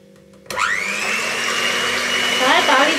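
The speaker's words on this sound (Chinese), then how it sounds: "咁我哋開個打蛋機" Electric egg beater whirring into eggs for a honey cake, switching on abruptly after a brief quiet moment, then a loud steady motorized whine with a rising pitch sweep near the end.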